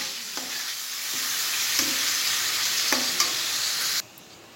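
Sliced onions hit hot oil in a pan for a home-cooked fish dish, setting off a loud, steady, close hiss with a few soft clicks that runs for about four seconds and then drops away sharply.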